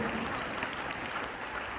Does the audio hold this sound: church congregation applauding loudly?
yes